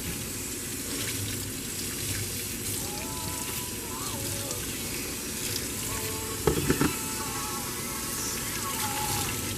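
Water runs steadily from a sink tap while a vacuum's cleaned filters are rinsed in a soapy sink, a continuous splashing wash with a brief louder burst of splashing partway through.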